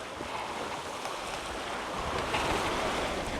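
Sailboat under full sail at sea, a steady wash of waves and rushing water against the hull mixed with wind buffeting the microphone, continuous and fairly loud with no voices.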